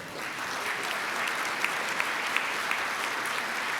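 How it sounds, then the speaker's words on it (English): Audience applause for award finalists at a Rotary meeting honoring the Jefferson Award for Public Service, a steady, close wash of clapping with a few sharper individual claps standing out. "Big round of applause for all of our finalists"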